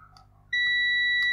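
Multimeter continuity beep while probing a capacitor on a Street Fighter 2 arcade machine; one sharp, steady electronic tone starts abruptly and holds close and loud, after a quiet, faint start.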